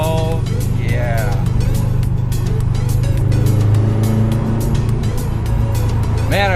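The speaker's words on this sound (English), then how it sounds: "Man, I wish there wasn't so much traffic." Busy road traffic flows past a 2009 Subaru WRX, a steady loud engine and road rumble with cars passing, and someone talks briefly over it.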